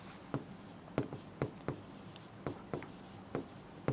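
Pen or chalk writing by hand during an economics lesson, heard as a series of sharp, separate taps and short strokes at a steady pace, close and fairly quiet, with no talking.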